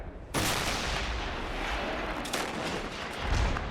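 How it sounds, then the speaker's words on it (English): Rumbling, sustained blast of M777 155 mm howitzer artillery fired by an airborne artillery unit from a mountain base, a loud sudden onset followed by a long rolling roar and echo. "members of a U.S. airborne artillery unit, armed with M777 howitzers, fire back."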